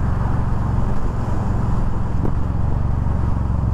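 A Yamaha V Star 1300 motorcycle engine runs loud and close with a deep, steady throbbing idle and a slight rise in revs, with no voices.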